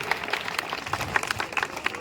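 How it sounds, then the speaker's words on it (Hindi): Audience at a student talent award ceremony breaks into lively applause, dense clapping from many hands with crowd murmur running underneath for the whole stretch. "इसलिए जोरदार ताली इनके लिए।"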